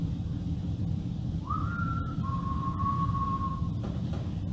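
A single person whistles one sustained tone that steps down slightly in pitch and holds for about two seconds, faint and distant over steady low rumbling background noise, with no talking.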